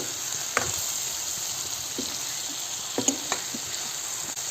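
Tomatoes fry in a pan with a constant soft sizzle, broken by a few sharp scrapes and taps of stirring, with no one talking.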